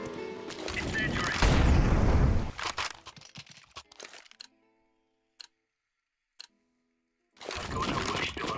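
An incendiary grenade goes off in a video game on a rainy night in Italy, a loud burst with a deep, crunching low boom that fades into quiet, followed by faint ticks and returning noise.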